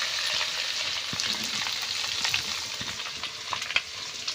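Fenugreek and cumin seeds crackle and sizzle steadily in hot oil as a tempering, with scattered pops over a constant frying hiss, close and loud, no talking.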